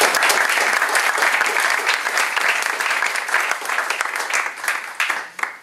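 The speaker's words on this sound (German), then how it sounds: "Ihnen dann erstmal bitte einen Applaus." Loud, dense applause from an audience at a startup pitch event in a coworking space, a steady roar of clapping that fades out near the end.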